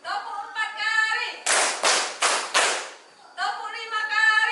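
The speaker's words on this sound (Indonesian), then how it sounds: "Tepuk 1 kali, 3 kali, tepuk 4 kali," A group of people clap in sharp unison bursts, roughly four strong loud claps in a row, set between stretches of a voice calling out counting instructions.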